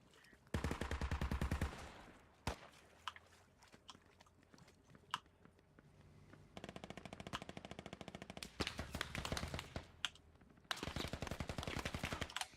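Gunfire in the Squad military shooter game: bursts of rapid automatic fire alternate with scattered single shots and quieter gaps, some rattling volleys loud and close, others more distant.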